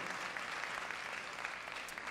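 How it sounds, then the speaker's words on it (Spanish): Audience applause at a public presentation event in Madrid, a dense steady wash of many hands clapping, moderately loud and continuous throughout with no voices on top. "Un aplauso, por favor"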